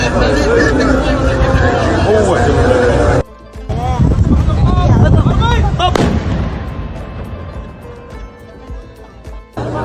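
A loud iftar cannon blast in Qatar booms and echoes, strong enough to set off a nearby car's airbag, followed by people shouting and chattering nearby.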